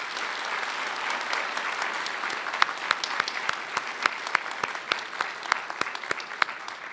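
An audience claps at a Meharry white coat ceremony for a dental class, a steady patter with sharp individual claps standing out near the microphone, heard alone without talk.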